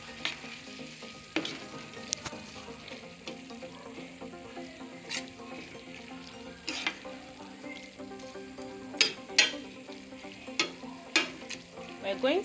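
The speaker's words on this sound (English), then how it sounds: "tomato paste a little bit, and I'm adding powdered curry. So I'm giving it a good stir." Curry powder and tomato paste are stirred through a sizzling frying pan for spaghetti jollof, with a steady fry hiss broken by repeated scraping strokes that grow sharper and more frequent toward the end.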